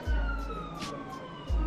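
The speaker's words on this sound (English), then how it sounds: "Oh, wow, the police is running out here." A police car siren wails outside, a fairly faint, distant rising and falling tone with low rumbling thumps at the start and end.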